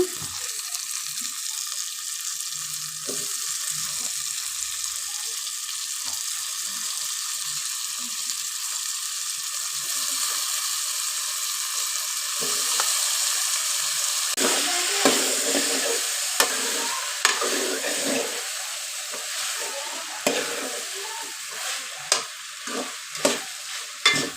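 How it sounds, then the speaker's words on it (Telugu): Banana slices frying in oil, a steady hiss with stirring scrapes that grow busier and clinkier toward the end, close by and without talk. "ఇవి ఫ్రై అవుతున్నాయి కదా ఇప్పుడైతే నేను ఇంకో బనానాస్ అయితే వేసుకుంటున్నాను"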